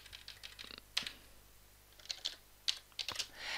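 Typing on a computer keyboard while entering text into a web page editor, with scattered key clicks in short irregular bursts and a few sharper isolated taps, close and fairly quiet.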